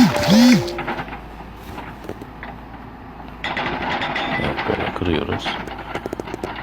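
An excavator works at splitting a short, hollow-cored tree trunk, its engine droning steadily with clanks and strained mechanical bursts, while someone talks over it.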